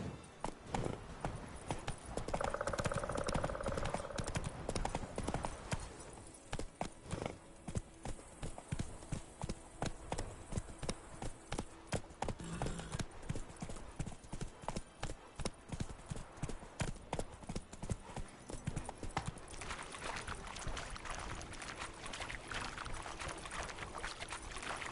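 Horse hooves in The Witcher 3 clatter in a fast, steady galloping rhythm, loud and close, running throughout with faint game ambience beneath.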